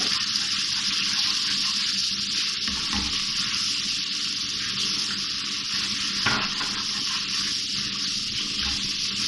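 One and a half tablespoons of garlic ginger paste frying in oil in a pan for keema filling, making a loud, unbroken hissing sizzle throughout with a couple of soft stirring bumps.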